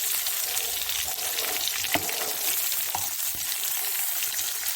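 Stuffed brinjal fries in a pan while being slowly turned, a steady close sizzle broken by a few soft scraping knocks of the spoon, with no talk.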